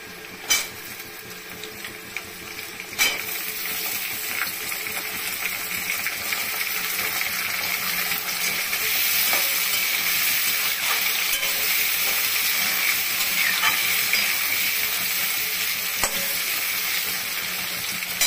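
Ridge gourd and potato pieces frying in oil in a pan, a continuous hissing sizzle that swells after a couple of sharp knocks of a spatula, with occasional stirring clicks throughout.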